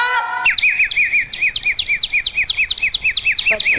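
Loud, repeated warbling bird calls in quick looping phrases fill the stage during a Tamil Valli drama performance at a temple festival, clear and close after a brief different tone at the start.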